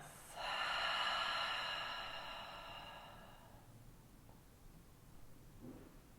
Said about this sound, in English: Taking the deepest breath you've taken all day so far, we inhale together. And exhale through the mouth.